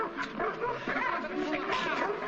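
A dog in an old detective film barks and yips excitedly in quick bursts, close and fairly loud, with a tense voice mixed in.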